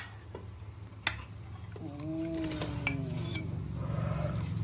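Tilapia pieces go into a pot of boiling broth, with a sharp clink of the pot, then a rising bubbling simmer and faint utensil clatter, close and fairly quiet.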